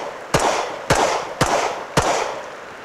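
Four sharp pistol shots from a Walther PDP fired in a shooting drill while moving, evenly spaced about half a second apart, loud and close, each with a short echoing tail and no talk.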